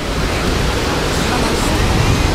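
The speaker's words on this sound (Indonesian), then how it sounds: "Ini dia alirannya, air terjun yang ada di Babak Pelangi." A waterfall, Air Terjun Babak Pelangi in a forest, roars in a loud, constant broadband rush of water, steady and close, with no other sounds standing out.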